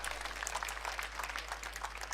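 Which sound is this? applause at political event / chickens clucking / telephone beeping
applause at political event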